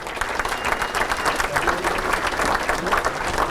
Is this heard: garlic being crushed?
no